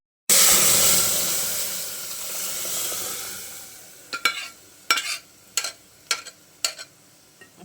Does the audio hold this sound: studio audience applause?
no